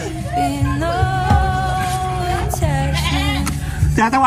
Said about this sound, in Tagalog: Tatawanan ako ng kambing.